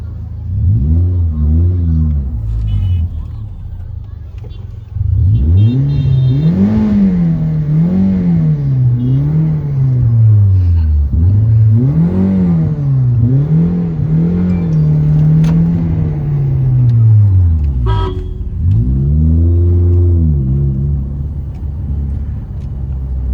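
A modified Toyota Corolla engine revs repeatedly through its aftermarket exhaust, loud and close, rising and falling in several long sweeps with a deep rumbling tone between blips.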